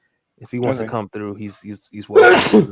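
A single sharp, breathy sneeze bursts out near the end of casual podcast chatter, loud and close, following several seconds of someone talking.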